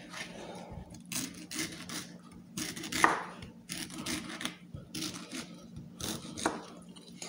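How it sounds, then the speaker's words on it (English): Knife cutting a fresh pineapple into tin-style chunks on a board: a series of close, crisp chopping thuds and slicing scrapes in an irregular rhythm, with no talking. "So now you're cutting it into typical pineapple chunks that you'd see from a tin."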